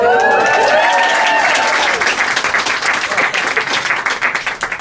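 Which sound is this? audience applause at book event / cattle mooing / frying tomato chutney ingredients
audience applause at book event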